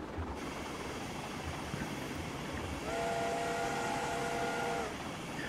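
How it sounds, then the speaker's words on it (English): In a train simulator game, a steam locomotive whistle sounds one steady two-second blast over a constant rumble of the running engine, with no speech. "this one's got a cool whistle, by the way,"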